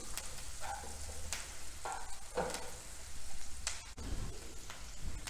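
Chopped onions sautéing in a pan for a Maharashtrian onion bhaji, a steady close sizzle broken by scraping stirs of a spatula.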